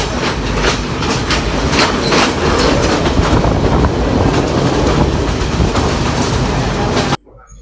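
A passenger train from Colombo, Sri Lanka rolls along loudly, wheels clattering in a steady rhythmic clickety-clack with a rushing rumble, cutting off abruptly near the end.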